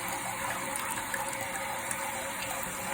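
Water running steadily from a toilet supply valve just opened under the tank, a continuous hissing gush that stays even and moderately quiet throughout.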